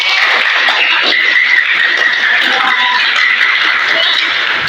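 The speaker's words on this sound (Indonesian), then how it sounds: "Oke, berikan tepuk tangan buat Manuel." Audience applause for Manuel during an Indonesian talk on becoming an adult, a dense steady clapping that fills the whole stretch at even loudness, with no voice over it.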